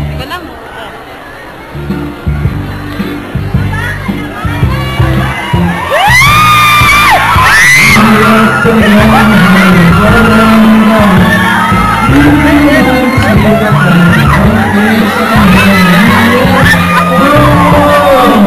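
A crowd at a live show bursts into loud cheering, whoops and shouts that swell and hold steady for a long stretch, while a voice keeps talking over the din and music plays underneath.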